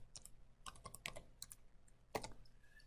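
Quiet clicks of fingers typing on a computer keyboard, a short irregular burst of keystrokes entering a search term in MATLAB, close and soft with no speech.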